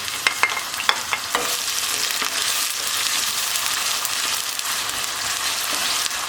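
Chopped onions sizzle and fry steadily in about a cup of olive oil, with a few sharp stirring clicks near the start over the continuous bright crackle.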